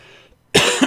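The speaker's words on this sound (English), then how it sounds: "Sorry about coughing." A single loud, harsh cough bursts out after a brief quiet moment, close and abrupt.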